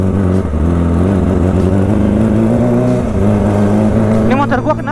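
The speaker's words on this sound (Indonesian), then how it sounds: "Ini motor gua kenapa ya? Sendat-sendat gini." Motorcycle engine droning steadily while riding, its pitch wavering and dipping as the engine hesitates and sputters, continuous and close with a brief rise near the end.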